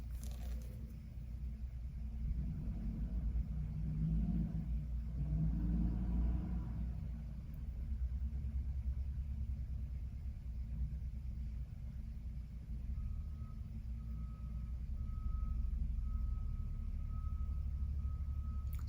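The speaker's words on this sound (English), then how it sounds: "Sorry about the truck in the back." A truck idles and rumbles outside during a renovation, a steady low droning engine tone heard from a distance, with a swell in the middle and a faint high whine joining near the end.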